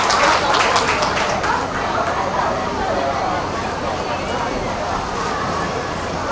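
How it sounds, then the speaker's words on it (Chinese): Audience applause at a live music performance during an outdoor carnival stage show, dense steady clapping and crowd noise sustained throughout, loud and continuous without a break. "掌声，谢谢。"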